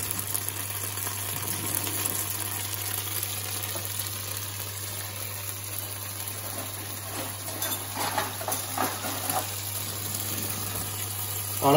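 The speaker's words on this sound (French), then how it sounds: "En fait, c'est l'ébullition qui va former des bulles" Cauliflower batter bubbling and sizzling as it boils in a hot frying pan, a steady close crackle with a constant low hum underneath and brief louder bursts of bubbling.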